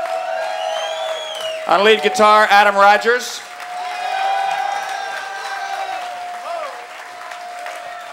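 Concert audience at Slim's applauds a live jazz band in a steady crowd wash, while a voice over a microphone introduces band members and other voices briefly call out partway through.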